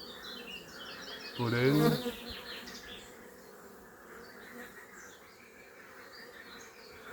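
Honeybees fly around an opened, lightly smoked hive in spring, a soft continuous buzzing close by that lingers throughout, briefly interrupted by a short spoken word.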